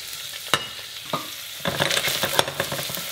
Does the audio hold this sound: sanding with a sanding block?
no